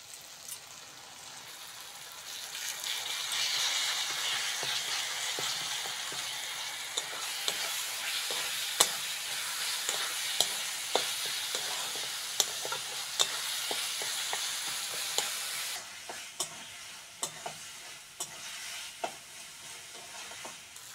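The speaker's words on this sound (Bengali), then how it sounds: "এবার আদা রসুন বাটাটা দিয়ে দেবো।" Ginger garlic paste fries in a pan for a South Indian fish curry, a loud, steady sizzle joined by repeated clicks and scrapes from stirring, then the sizzle eases while the scraping continues.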